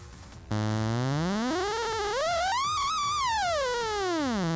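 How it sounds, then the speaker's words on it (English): A theremin-controlled synthesizer oscillator tone glides smoothly up and then back down in a long continuous sweep, buzzy and bright, with no talking. "this gadget called a Theremin"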